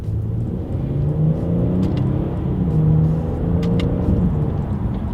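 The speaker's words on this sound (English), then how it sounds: "let's do a quick little paddle shifter test here" A 2021 Genesis G90 sedan accelerating during a paddle shifter test, heard from inside as a smooth, steady engine hum with gentle rising pitch sweeps as gears change, with no talking.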